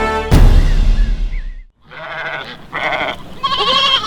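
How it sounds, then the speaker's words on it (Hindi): Several goats bleat loudly and close by, one wavering cry after another with a short gap between them, and no voices over them. "जाओ बकरियों, उजाड़ दो बाजी का खेत"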